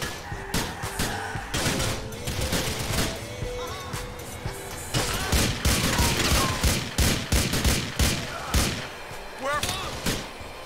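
Rapid gunfire in Grand Theft Auto: The Ballad of Gay Tony, aimed at a vehicle's tires, comes as repeated sharp bursts and thuds over engine and game noise, with someone talking through it.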